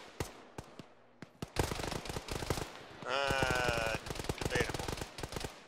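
Heavy gunfire in a military video game: a big gun fires loud, sharp shots in uneven bursts, then a dense rapid volley, all close and booming, with a brief spoken remark mixed in.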